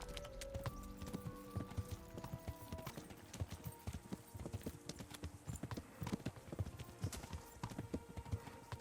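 Horse hooves gallop at a steady, rapid rhythm in the medieval game Kingdom Come: Deliverance, loud and close throughout, with a faint whinny and no talking.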